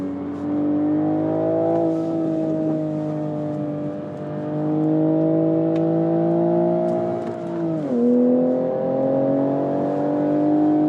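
A manual Toyota GR Supra's engine drones steadily on a track, rising and falling with revs and dipping briefly around a shift before pulling strongly again, loud and continuous with no talking.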